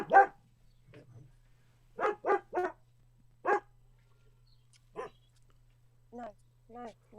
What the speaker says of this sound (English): My dog Bella is very noisy